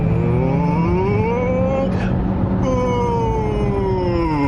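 A Hyundai Grandeur GN7 hybrid's engine hums loudly and steadily, its pitch dipping and rising again as the revs change, close by.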